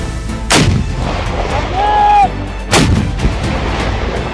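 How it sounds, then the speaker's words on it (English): An RPG-30 anti-tank rocket launcher fires twice, two loud, sharp blasts about two seconds apart with a brief whistling tone between them. "Выстрел!"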